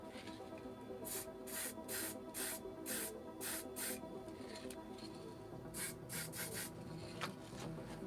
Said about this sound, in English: we're going to spray the paint through there